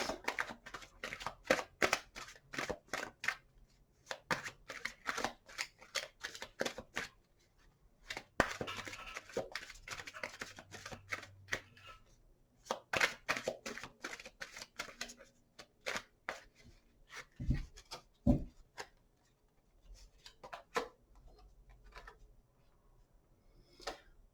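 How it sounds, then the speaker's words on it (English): Crisp riffling of tarot cards being shuffled in several quick bursts with short pauses between, close up, followed by a few soft taps and clicks. "Three shuffles."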